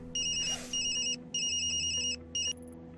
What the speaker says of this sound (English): Oh, hang on, I got a phone call.